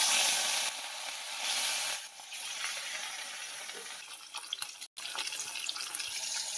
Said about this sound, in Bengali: তেল গরম হয়ে গেছে, মাছগুলো এবারে ভাজবো